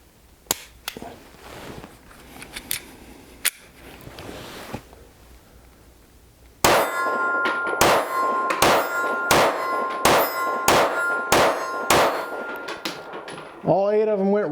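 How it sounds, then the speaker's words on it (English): A Savage Stance 9mm pistol fires eight shots at a steel target on a range, each sharp report followed by a bright metallic ring, spaced at a steady rhythm and loud and close, after a quieter stretch of faint handling noise. "All 8 of them went right there at the steel, rang it every time."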